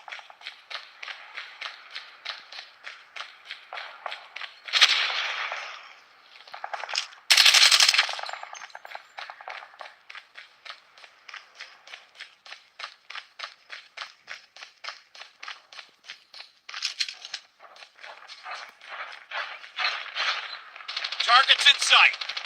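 Call of Duty Warzone gunfire, long runs of rapid evenly spaced automatic shots with a few louder heavier bursts mixed in, and a voice speaking in the background.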